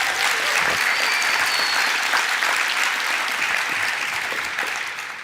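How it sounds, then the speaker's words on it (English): A conference audience at FUBCON 2023 gives Kenny a big round of applause, with steady, dense clapping filling the room and tapering off slightly toward the end. "Can we give Kenny a big round of applause?"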